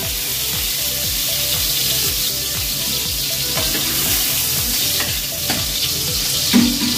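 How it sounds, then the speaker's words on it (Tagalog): Crushed garlic sizzles and fries steadily in a hot pan for a sinigang na hipon base, with a continuous crackling hiss and a few faint clinks of stirring, no voices. "Ilagay na po natin yung dinurog na bawang."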